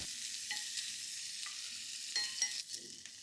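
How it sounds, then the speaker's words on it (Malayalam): Chicken pieces shallow frying in a pan, giving a soft, steady sizzle with light stirring scrapes, quiet and continuous with no talking. "ഇങ്ങനെ എല്ലാ ചിക്കൻ പീസുകളും ഷാലോ ഫ്രൈ ചെയ്തെടുക്കാം."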